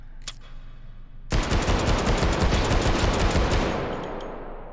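Two Desert Eagle pistols fired together in the VR shooter Hot Dogs, Horseshoes & Hand Grenades, a loud rapid barrage of heavy shots bursting in after a brief quiet lead-in and ringing on for several seconds.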